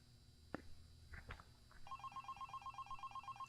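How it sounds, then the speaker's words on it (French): A telephone rings in the horror video game Five Nights at Candy's: a few soft clicks and thumps, then a steady electronic ring repeating in quick, even pulses, fairly faint. "Donc nouvel appel téléphonique."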